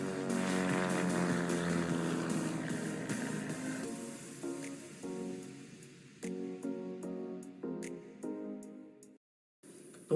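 Aircraft engine roaring during takeoff in a flight simulator game flown with a Logitech yoke, a loud steady drone with rising tonal harmonics that breaks into pulsing bursts before a brief cutoff.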